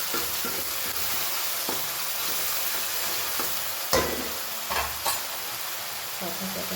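Masala stirred and frying in a pan, a steady sizzle with scattered scraping strokes of a spoon against the metal and a few louder clacks near the end, no talk.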